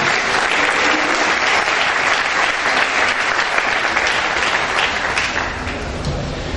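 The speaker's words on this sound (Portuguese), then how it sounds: "Se você pode aplaudir, vamos aplaudir." Audience of pastors at a church gathering breaks into sustained applause, a dense, steady wash of many hands clapping that holds loud for several seconds before easing slightly near the end.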